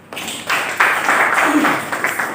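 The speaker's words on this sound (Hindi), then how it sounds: "बोले एक बार तालियां बजा दी।" A church congregation claps together during a sermon, producing a dense, steady wash of many hands that swells after a brief start and carries on without voices over it.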